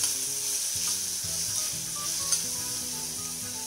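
A steady, bright sizzle comes from tomatoes being stirred into vegetables in an oiled pan, with a few soft clinks from the stirring. A faint tonal hum of background music runs underneath, and nobody talks.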